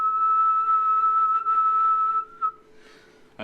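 A steady, clear whistle aimed into a microphone as a sound-trigger test, holding one pitch for about two and a half seconds before fading out, followed by a short click.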